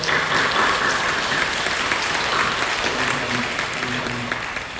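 Church congregation applauding during a service, a dense, sustained wash of clapping that fills the space and slowly tapers off toward the end, with faint voices underneath.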